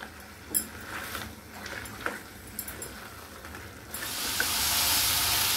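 Crab curry spiced with turmeric, cumin and coriander is stirred in a hot pan, giving a steady close sizzle with a few soft scraping strokes; the frying hiss swells louder and brighter toward the end.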